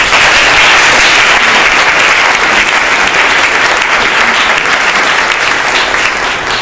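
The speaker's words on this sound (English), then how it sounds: "let's just give Ron a quick round of applause" A conference audience applauds together in a dense, steady wash of clapping. It is loud and continuous for several seconds and then begins to taper slightly at the end.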